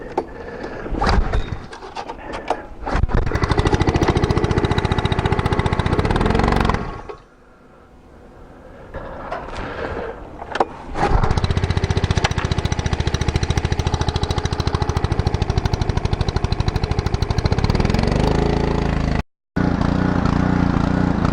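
A small petrol engine on choke cranks and sputters, dies briefly, then catches and runs with a loud, rough, steady clatter close by, with a short dropout near the end.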